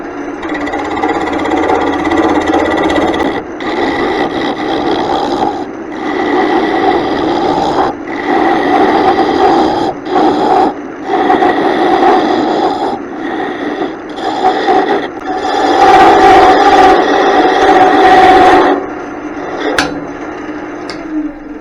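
Steel turning tool being honed for a wood lathe, a steady dense raspy grinding that runs for about twenty seconds with short breaks and a louder stretch near the end, close and loud, no talking.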